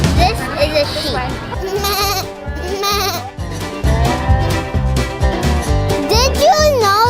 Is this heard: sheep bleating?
yes